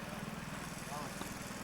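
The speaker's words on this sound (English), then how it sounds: "He really mows quickly." A lawn mower cuts grass at a lakeside lodge in 1989, its engine a steady, close drone that runs throughout while a person talks over it.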